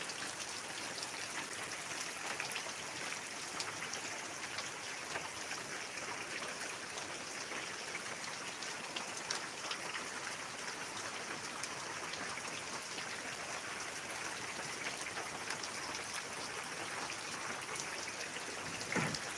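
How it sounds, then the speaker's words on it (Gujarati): Steady, even heavy monsoon rainfall in Banaskantha, Gujarat, a dense hiss of drops with occasional closer drips, continuing without pause. "બનાસકાંઠામાં સારો એવો વરસાદ છે બે દિવસથી અત્યારે પણ હજી ચાલુ છે"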